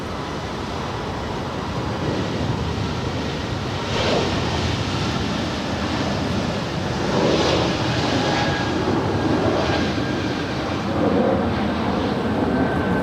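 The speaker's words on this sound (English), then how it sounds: "This is Air Canada 778 departing to Montreal." An Air Canada Airbus A220-300, about a year old, departs with a steady broadband jet roar that swells and fades in waves, carried on wind noise at an airport without talk.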